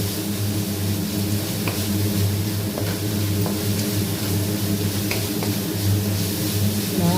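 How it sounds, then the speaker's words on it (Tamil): Onions sautéing in a pan for a Tamil-style fish curry, giving a steady, even sizzle that runs throughout over a low continuous hum, with a few faint scraping clicks and no talking. "நல்லா ஒரு நிமிஷத்துக்கு நல்லா வதக்கி விடுங்க வெங்காயத்தை"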